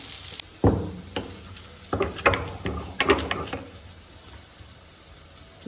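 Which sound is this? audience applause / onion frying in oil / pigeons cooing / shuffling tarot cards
onion frying in oil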